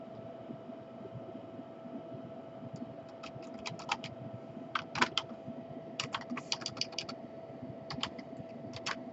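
Bursts of typing on a computer keyboard, quick irregular clusters of key clicks over a low steady electrical hum, close and fairly quiet, no voices.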